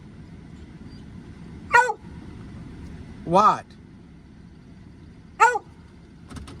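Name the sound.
dog Barney barking for a bacon strip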